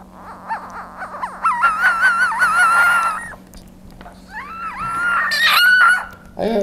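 A Budgett's frog gives out several shrill, wavering screams: a few short cries, then two long, loud, warbling wails that rise and fall, close to the microphone.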